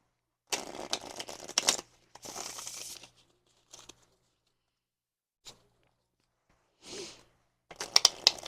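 Tarot cards are shuffled and pulled by hand in short bursts of crisp riffling and slapping, separated by quiet pauses, close and fairly soft.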